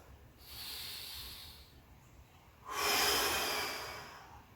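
Two forceful breaths during a core workout, a shorter airy exhale followed by a bigger, longer whooshing exhale through the mouth, close and alone without speech.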